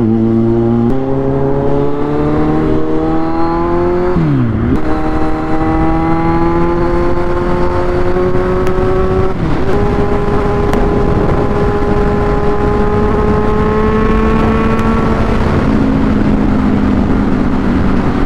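Kawasaki Z1000 motorcycle cruising on an expressway at steady speed, its engine droning loudly and continuously with pitch that shifts between gears, under heavy wind rush.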